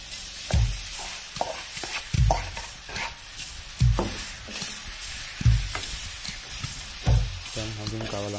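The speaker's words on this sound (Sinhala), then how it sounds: "දැන් අපි සීසන් වෙච්ච උරුමස් ටික එකතු කරගමු" Seasoned pork chunks hit a hot pan for a black pork curry and sizzle steadily, with about eight sharp spoon stirs and scrapes landing every second or so, close and moderately loud.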